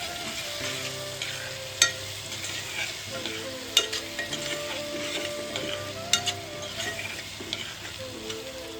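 Pigeon pea beans, washed and cleaned, tipped into a hot pan of tomato-based Gujarati muthiya curry, giving a steady soft sizzle with scraping stir strokes and a few sharp clinks of a spoon against the pan.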